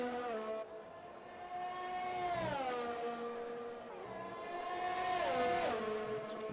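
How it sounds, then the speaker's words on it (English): A race car engine in a racing video game at the Azerbaijan Grand Prix drones steadily, its pitch climbing and dropping through gear changes, loud and continuous without speech. "we can listen to the engine or the sound."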